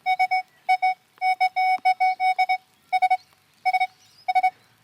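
A Nokta Triple Score metal detector sounds off loud and close with clipped, steady-pitched electronic beeps in quick bursts of two to five, with short pauses between groups and no talking.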